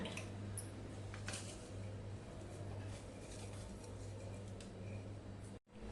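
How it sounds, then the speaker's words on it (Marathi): Quiet, steady trickle and squishing of water draining from soaked green mung beans, with a low hum underneath. "पाणी सगळं निथळून काढूया"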